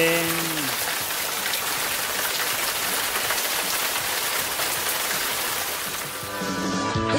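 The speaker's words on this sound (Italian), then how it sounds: "E qui piove." Steady rain falls in San José, Costa Rica, a dense continuous hiss of drops on surfaces, loud and close, with faint tonal sounds briefly at the start and near the end.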